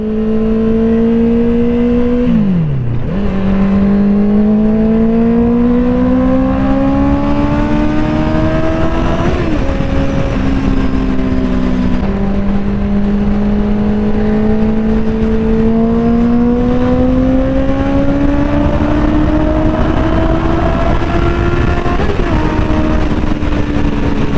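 A motorcycle with a loud aftermarket Two Brothers exhaust holds a high rev in light rain. Its pitch rises in slow steps, with a few quick dips between pushes of the throttle.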